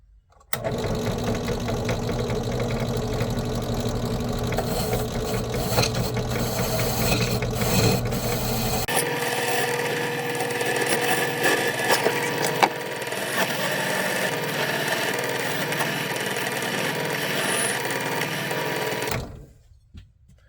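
A drill whines steadily into metal for a long stretch, drilling out rivets on a 1983 Honda ATC 200E Big Red, grinding and chattering as the bit bites, then cuts off at the end.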